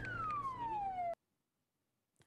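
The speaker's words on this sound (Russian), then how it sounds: "машина скорой помощи с маячком синего цвета и звуковым сигналом" Ambulance siren from a vehicle with a blue flashing light, one loud steady descending wail that cuts off abruptly, followed by near silence.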